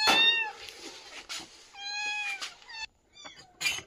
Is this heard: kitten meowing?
yes